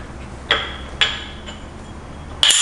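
Three sharp metallic clinks from an EG1 coffee grinder as its bottom burr is taken off, spaced about half a second apart and a final louder one, close by in a quiet room.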